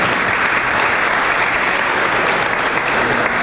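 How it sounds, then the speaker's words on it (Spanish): Steady, dense applause from a conference audience welcoming a doctor to the lectern, loud and continuous throughout with no voices on top. "Por favor, brindemos un fuerte aplauso al doctor"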